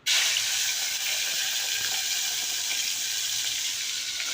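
Prawns slipped slowly into hot oil in a pan, giving a loud, steady sizzling hiss that starts abruptly and holds for several seconds.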